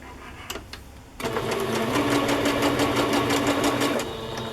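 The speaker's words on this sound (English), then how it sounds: "I'm going to do a stitch up here, just a straight stitch." Sewing machine running a straight stitch through folded feed sack fabric, a steady rapid needle chatter starting after about a second of quiet handling noise and holding evenly, close and fairly loud.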